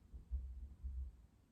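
A low, muffled heartbeat sound effect thumps in a slow double pulse, two heavy beats close together and fairly loud, with no other sounds.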